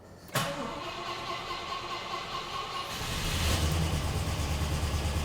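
A Rover P6 V8 engine cranks and catches on choke on a winter day, settling into a steady idle that grows louder and rougher after a few seconds; no voices.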